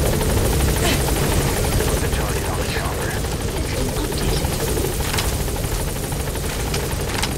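A helicopter in the video game Metal Gear Solid 5 flies close by with a steady, loud rotor roar that fills the scene throughout, under faint background activity.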